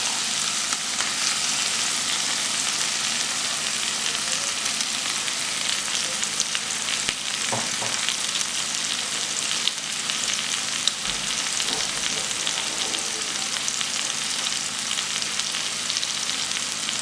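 Onion, ginger and garlic paste fries in a pan for noodles, giving a steady, loud broadband sizzle throughout with a few brief stirring scrapes partway through, no voices.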